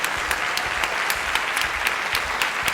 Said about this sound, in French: Merci pour cette salve d'applaudissements nourris